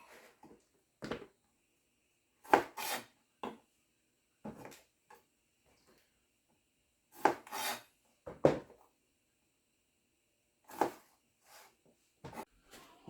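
Knife cutting the tops off garden jalapeños for cowboy candy, heard as a series of short, sharp crunchy cuts with irregular pauses between them, close and isolated.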